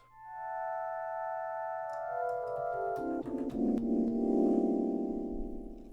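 A slow, airy synth pad swells in with layered held notes that gradually shift lower and thicken into a warm, wavering wash, with no voices.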